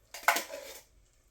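Undrained canned beans are tipped into a chili pot with a single clattering metallic knock of can against pot, then a short wet slide, close and brief.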